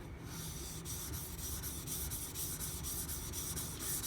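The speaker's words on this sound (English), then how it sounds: "I'm going to get rid of the 320 scratches and get this polished up to a nice shine" An Aogami #1 steel Karaku bunka knife is rubbed in steady back-and-forth strokes on a fine sharpening stone. The close, soft scraping repeats rhythmically throughout, with no speech.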